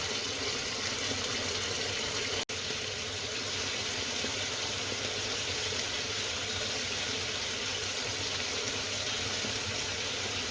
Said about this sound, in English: So once again, we're going to boil that until it reaches a good temperature.